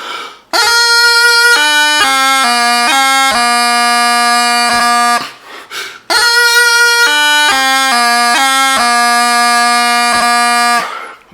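Bagpipes play the last phrase of the tune "Song of the Glen", quick ornamented melody over a steady drone, a brief pause, then the phrase repeats and ends.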